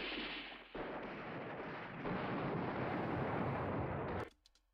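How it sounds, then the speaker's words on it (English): An artillery barrage in Command Ops 2 rumbles as a dense, roaring wash of distant gunfire and blasts, building in intensity before cutting off abruptly into a few faint trailing clicks. "This will be the last barrage of the day."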